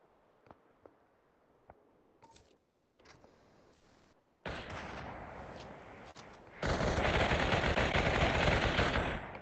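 Rapid machine gun fire rattles in the VR shooter Population One, starting after sparse taps and short bursts, then becoming a loud, sustained stream of automatic shots.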